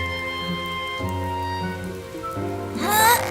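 Rain falls in a children's cartoon, a steady patter running under a tonal music bed, swelling briefly near the end.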